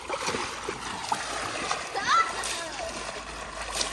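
A child splashing water in a backyard swimming pool, uneven splatters and sloshes close by while children's voices chatter over the splashing.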